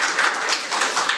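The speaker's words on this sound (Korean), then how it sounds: "박수 한번 주시죠" An audience at an animation industry policy forum gives a short round of applause, a quick, fairly close patter of clapping that fades almost as soon as it starts.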